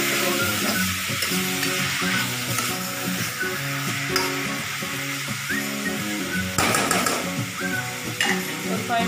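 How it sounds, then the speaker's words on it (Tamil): Beetroot pulao with rice sautés in a pan with a steady close sizzle and intermittent stirring scrapes, while a person talks quietly underneath. "ஒரு 5 மினிட்ஸ் வதங்கணும்."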